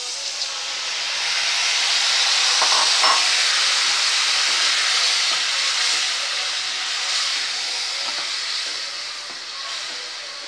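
A steady, bright hiss of brinjal gravy with tamarind water bubbling and simmering in a pan, with small pops and crackles throughout, no talking.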